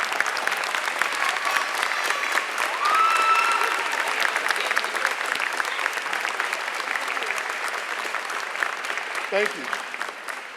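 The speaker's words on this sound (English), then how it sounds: "Young people, please stand up and give your parents a round of applause" Steady applause from seniors at a high school awards night honoring parents and supporters, continuous dense clapping with a whistle and a brief spoken remark late in the ovation.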